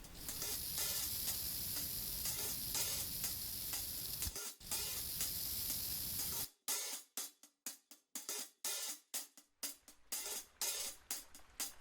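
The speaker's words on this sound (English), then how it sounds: "And now I'll spray it with some plain alcohol, just a fine mist." Fine mist of plain alcohol sprayed onto wet red epoxy art on a glass patio tabletop, heard as a steady broadband hiss lasting several seconds, then breaking into a series of short, sharp spray bursts.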